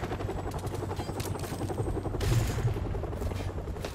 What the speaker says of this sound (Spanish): ¿Está el helicóptero para atacarnos?